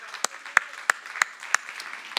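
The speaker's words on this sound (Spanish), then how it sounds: "Eso merece un aplauso del Señor," Sparse, rhythmic clapping in a church congregation during a Spanish-language worship service, with sharp individual claps at a steady beat over a soft room background.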